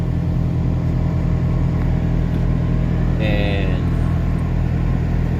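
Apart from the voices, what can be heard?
truck engine started and running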